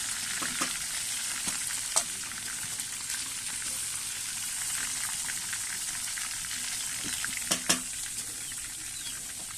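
Meat frying in hot oil in a pan gives a continuous hissing sizzle, close and even, broken by a few sharp metallic clinks of a utensil against the pan. No talking.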